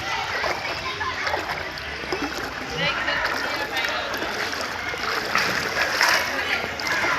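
Water splashes down continuously at a resort in Virar, a bright rushing spatter that swells and churns, with voices talking over it.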